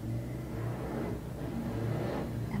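A Harley-Davidson motorcycle passes outside on a sunny day, its engine a low, steady, distant rumble that swells slightly and fades, heard faintly through walls with no talking.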